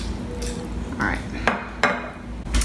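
Tomatoes are tossed with fresh thyme and olive oil in a bowl, giving close clinks and taps of a utensil against dishware amid soft stirring, with light talk.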